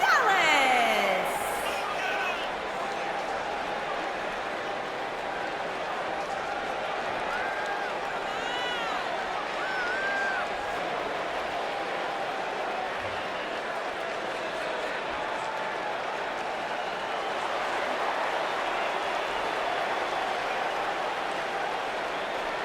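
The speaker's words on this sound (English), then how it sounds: "And Michael, it sounds to me like this crowd already picked the one who they want to win this match" A large arena crowd in the WWE 2K19 wrestling video game roars and cheers continuously, a dense, steady wash of noise that fills the whole stretch.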